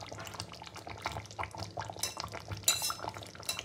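Ghee spooned over mutton curry in a pot, heard as soft liquid sizzle and drips mixed with spoon clinks against the metal pot, close and fairly quiet.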